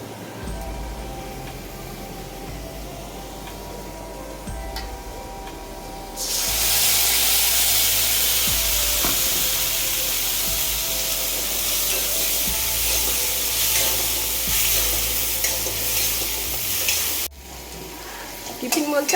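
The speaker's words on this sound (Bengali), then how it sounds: "টিফিন বলতে আলু ভাজাটা আমার ননদ ভাজছে" Potatoes frying in a pan in a home kitchen: a loud, continuous sizzling hiss that starts suddenly partway through, holds steady for several seconds, then cuts off, with quieter household background before and after.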